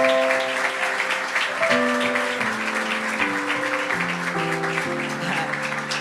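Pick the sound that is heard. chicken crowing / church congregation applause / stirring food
church congregation applause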